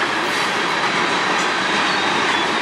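A train passing in Sarnia, Ontario makes a loud, continuous rolling rumble with steady rail noise and faint wheel clatter, close by and unbroken throughout.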